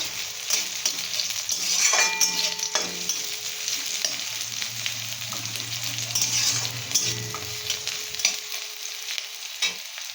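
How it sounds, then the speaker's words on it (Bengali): Chopped onion sizzles steadily in hot oil in a pan for ridge gourd chutney, while a spatula scrapes and stirs with occasional light clinks, close by and without talk. "ভালো করে নেড়ে করে গরম করে নেব, লাল করে নেব।"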